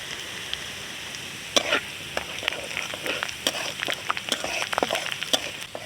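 Onion and garlic fry in a pan in a village kitchen, giving a steady, fairly quiet sizzle with scattered crackles and pops from about 1.5 seconds on, heard alone without talk.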